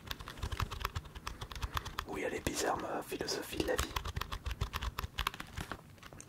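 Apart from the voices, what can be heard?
typing on a small keyboard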